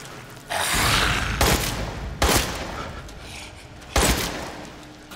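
Gunfire in Resident Evil 8 comes in loud bursts, several sharp shot clusters separated by short pauses, each with a noisy rasping tail, no talking.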